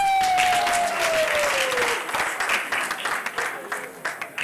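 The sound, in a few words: audience applause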